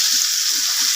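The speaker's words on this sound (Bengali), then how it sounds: "আর এদিকে আমার মাছ ভাজাও কমপ্লিট হয়ে গেছে" Fish frying in a pan over steady heat, giving a continuous, bright, close sizzle with soft low bubbling bursts and no voices.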